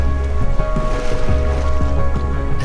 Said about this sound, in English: the sound of the waves lapping against the boat while being propelled through the